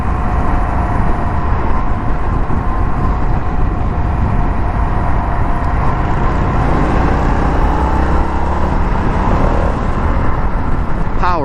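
A 2021 Indian FTR1200 motorcycle with a 1200 cc engine pulls hard through winding twisty roads, a loud continuous engine drone with wind rush close to the rider, heard under spoken commentary.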